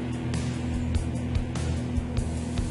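An Aurora T-Jet slot car, a Camaro towing a chrome Airstream trailer, whirs steadily around a track through a hairpin, a constant electric motor hum with faint periodic clicks as it circles, close and alone.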